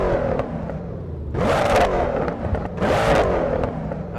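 Mercedes C63 engine in the Assetto Corsa racing game, heard from outside the car with an external sound mod: a low rumbling idle broken by two sharp, loud revving bursts with crackling pops as the throttle is blipped and released.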